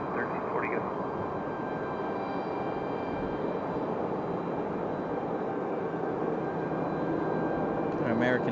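United Airbus A319-100 taking off on runway heading at Raleigh-Durham, a steady broad jet engine roar held throughout with faint radio-like tones over it.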